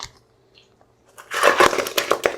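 After a quiet moment, a burst of crackling and crunching as frozen sauce packets are squeezed and broken, loud and close for about a second.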